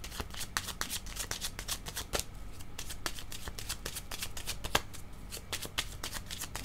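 Tarot cards being shuffled by hand in a quiet room, a steady run of crisp riffling flicks and soft slaps close to the listener, with no voices over them.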